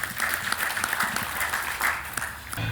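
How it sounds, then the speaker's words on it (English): Audience applause at an aviation safety news briefing, a steady wash of clapping hands sustained throughout at moderate, even loudness before tapering off. "Round of applause."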